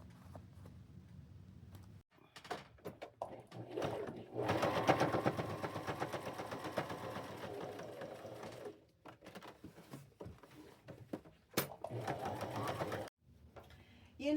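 Sewing machine stitching denim strips from thrifted jeans onto a purse, a close, steady mechanical whir in long runs with brief stops and clicks between, and a voice talking at times.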